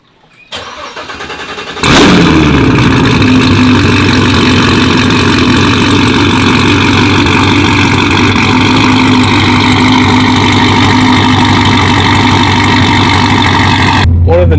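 A Corvette Z06 cranks briefly, then fires into a loud, steady, rumbling idle that holds close and constant to the end, with no talk over it.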